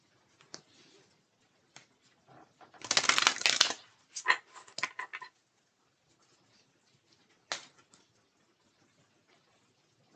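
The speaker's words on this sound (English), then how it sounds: "I can shuffle and see there." Papery rustling and a quick riffle of tarot cards being shuffled, one dense burst followed by a few softer flicks and taps, close by and otherwise quiet.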